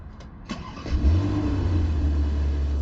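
A Porsche Panamera engine cranks and fires, then settles into a steady, deep idle rumble heard close up from the cabin with no talking.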